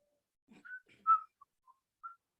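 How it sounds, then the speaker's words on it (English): Whistling heard faintly from around the side of a cabin, a few short, clear whistled notes rising and falling with gaps between them, alone with no talk. "there's a whistling sound"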